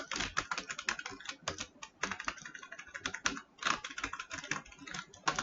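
Code being typed on a computer keyboard, rapid irregular clacking keystrokes close up and fairly quiet, continuous with short pauses and no talking.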